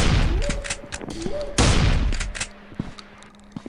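Gunfire from the Finding Bigfoot video game as a player shoots at Bigfoot: dense, crackling bursts of shots that swell, cut back and surge again, with a faint tone and thuds underneath.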